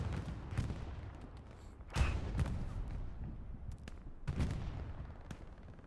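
Scattered gunfire around a brewery during a competitive Hell Let Loose match, sharp distant cracks and bursts at irregular intervals with a few heavier booming shots standing out against a low battlefield rumble.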